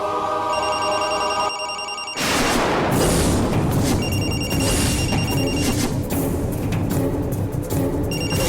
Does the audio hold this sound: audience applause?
no